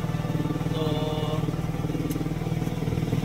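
A Rusi Raider 150 motorcycle engine idles steadily up close after a tune-up with valve shim adjustment, a continuous loud rumble with a slight clatter throughout.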